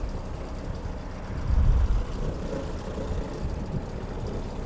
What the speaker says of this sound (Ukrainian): дамо двигуну трішки прогрітися